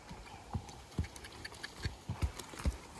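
A horse trots in an even rhythm, its hooves clip-clopping as a series of clear, moderately close footfalls with no talk over them.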